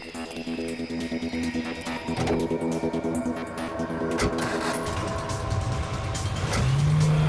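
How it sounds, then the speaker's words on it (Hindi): A car is driven hard and fast toward a junction in a police drama chase, its engine roaring steadily up close and swelling louder near the end, with no talk over it. "बहुत भगा रहा है गाड़ी"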